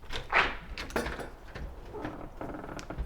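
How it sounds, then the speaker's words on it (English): A front door swinging open onto a front yard, with a sharp latch-like knock near the start and a broader thud around one second, followed by quieter rustling and room noise, close and moderately loud. "It might be something that is dangerous on the other side of that door. But I'm going to open it."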